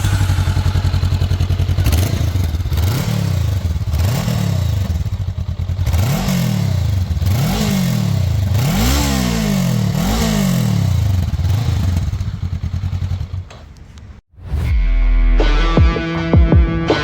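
A 2024 Honda NX500 motorcycle engine on a ride, loud and close, revving up and down in repeated rising sweeps through the gears before a brief cut and a steady idle-like drone.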